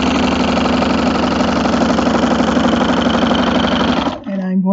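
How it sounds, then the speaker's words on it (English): A sewing machine fitted with a walking foot stitches a quilt block with a steady, loud, rapid mechanical chatter, then stops abruptly near the end. Brief speech follows. "I'm going to sew right off the edge"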